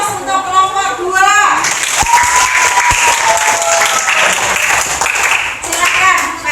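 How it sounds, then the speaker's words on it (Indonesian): Students in a civics classroom clap for a presenting student group, loud, dense applause swelling about a second and a half in and continuing steadily, with a voice over the opening moments. "Beri aplaus untuk kelompok 2."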